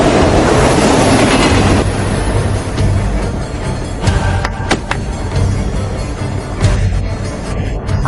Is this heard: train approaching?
yes